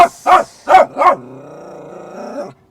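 A dog barks four times in quick succession, loud and close, and then gives a long drawn-out whine or howl that fades out.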